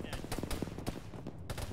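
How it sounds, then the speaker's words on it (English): Enemies shooting at a squad in a tactical military video game: rapid, irregular cracks of rifle and machine-gun fire at moderate distance, several shots packed closely together, with faint voices underneath. "We have contact northwest shooting at us"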